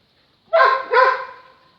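A dog gives two short, loud barks close by, the second trailing off into a brief whine, with silence before them.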